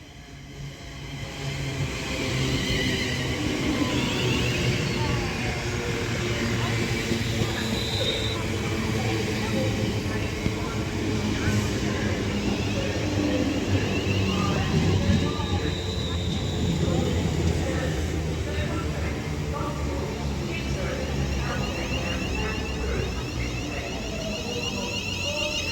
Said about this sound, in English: Now arriving in is going to be the 10:39 London North Western Railway service to Birmingham New Street from Liverpool Lime Street with the doubled up class 350